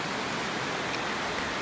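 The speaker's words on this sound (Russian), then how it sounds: "погода резко поменялась от солнечной, пошел дождь" Rain begins falling beside a mountain river, a soft, even hiss of drops and rushing water that stays steady and faint throughout, with no voices.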